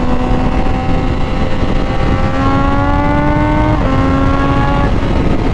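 A Triumph Daytona 660 motorcycle engine pulling hard at high RPM, loud and close, with a rising howl that climbs steadily, breaks at gear shifts and climbs again, with wind roar underneath.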